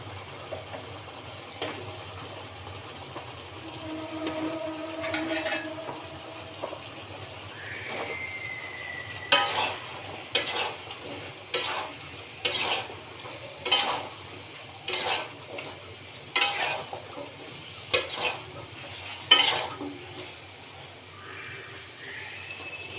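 A metal spoon stirring bottle gourd in a frying pan with taki fish: about ten sharp, rhythmic scraping clacks against the pan over a faint low background, after a quieter stretch.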